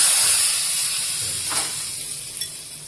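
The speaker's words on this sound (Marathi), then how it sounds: "थोड्याशा मेथ्या पण टाकल्या आणि ही कढी आपण कढीवर फोडणी घातली" A loud sizzling hiss of hot oil tempering with curry leaves and fenugreek poured onto kadhi, strongest at first and slowly fading, with a few small crackles near the end.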